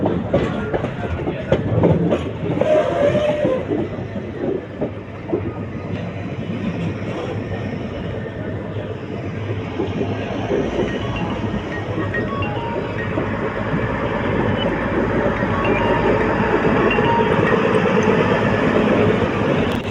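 A train pulls into platform one at Palakkad Junction, its wheels rumbling and clattering loudly and steadily on the rails from close by.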